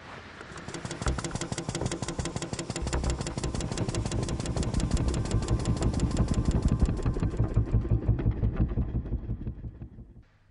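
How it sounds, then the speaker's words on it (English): A pump engine at an oilfield pressure-testing job starts up with a quick crank and settles into a loud, steady running rumble with a rapid knocking pulse, fading out toward the end. "I'll start the pump."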